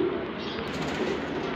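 Teddy pigeons coo at a pigeon sale in Lahore, a low steady cooing under a constant noisy background with no clear pauses.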